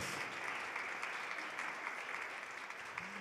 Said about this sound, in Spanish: damos un fuerte aplauso entonces al nuevo CAM 2022